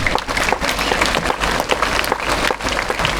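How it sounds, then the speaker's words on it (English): A school morning assembly applauds the choir and their teacher: loud, close, continuous clapping from many students, dense and even across the few seconds. "So give a fat round of applause to the choir and the teacher in charge."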